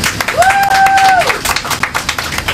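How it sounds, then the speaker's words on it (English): Passengers on a Fair Lawn Day trolley ride applaud, a burst of close, loud clapping that runs the whole way through, with a brief tonal sweep rising and falling early on. "Round of applause."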